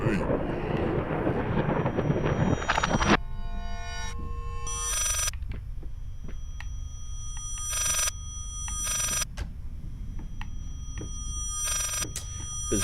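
A telephone rings repeatedly inside the horror video game Layers of Fear, in bright, regular bursts separated by short gaps, loud and close, following a stretch of dense rumbling game noise at the start.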